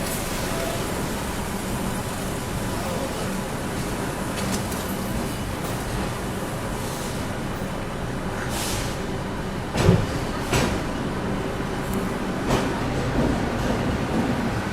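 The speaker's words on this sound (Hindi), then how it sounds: "बिल्कुल डॉट ऑन टाइम 4 बजे अपनी राजधानी एक्सप्रेस निकल चुकी है दोस्तों CSMT से।" Central Railway Rajdhani Express departing CSMT station in Mumbai, a steady broad rumble of rolling train wagons heard from nearby, with a couple of brief sharp clanks partway through.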